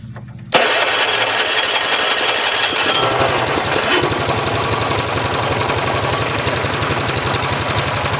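A small GX75 engine, freshly refilled with oil, starts with a loud burst and settles into a steady rapid chugging idle, close and continuous with no voices.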